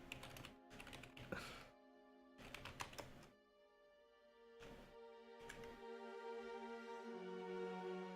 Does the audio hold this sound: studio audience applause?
no